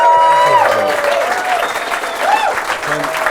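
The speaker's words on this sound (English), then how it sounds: "please give them a round of applause." An audience in an Irish music venue applauds the musicians, clapping steadily under a voice talking over it, with a little cheering mixed in.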